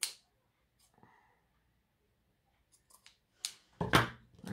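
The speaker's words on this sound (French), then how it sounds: "Là, je vais couper le bord." Scissors trim the edge of a handmade card in a few sparse, close snips, with a quiet stretch between them and a denser burst of cutting near the end.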